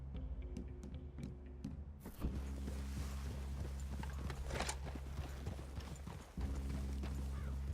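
Horse hooves clip-clopping at a walk in the game Red Dead Redemption 2, steady low thuds over a constant ambient hum, with a few sharper metallic clinks early on.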